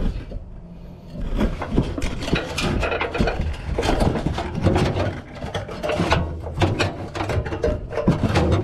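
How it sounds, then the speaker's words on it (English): Nut and washer being fitted onto a bolt during a trailer hitch installation on a 2018 Chevrolet Traverse, with dense close metallic rattling, scraping and ratcheting throughout. "I'm gonna put the nut and washer on"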